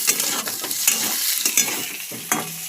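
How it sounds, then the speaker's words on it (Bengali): Potato pieces tossed into a pan of fried onions and stirred, with bursts of hot-oil sizzle and repeated scraping clatter of the spoon against the pan, close and fairly loud, no talking. "এবার আমি আলুগুলো দিয়ে দিচ্ছি।"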